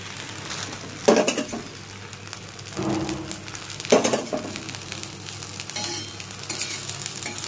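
A breakfast snack fries in oil in a pan, with a steady close sizzle broken by a few louder stirring or turning scrapes at intervals.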